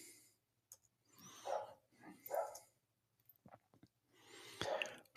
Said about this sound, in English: As I hear Abby the break dog barking from up here